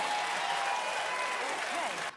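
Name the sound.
studio audience clapping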